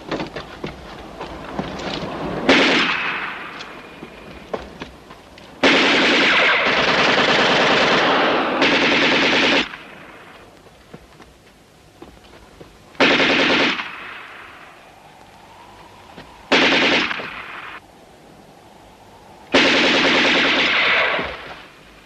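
Loud machine gun bursts rattle in several separate volleys, each lasting a second or several, with quieter wind-blown gaps between them.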